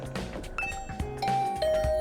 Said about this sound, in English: I rang the doorbell at Tsubasa's room.